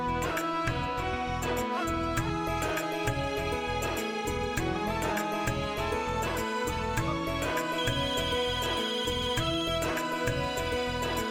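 Mobile phone ringing with an incoming call, a looping melodic ringtone that plays continuously and evenly at moderate volume with no other sounds.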